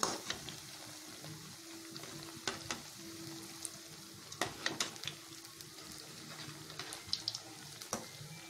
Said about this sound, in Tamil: இதே போல் எல்லா ப்ரெட் துண்டுகளையும் நம்ம பொரிச்சு எடுத்துக்கலாம்.